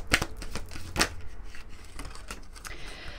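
Moon oracle cards drawn and handled from a deck during a full-moon reading: crisp papery snaps and flicks close by, an irregular run of quick slaps with a few louder strokes, no voices.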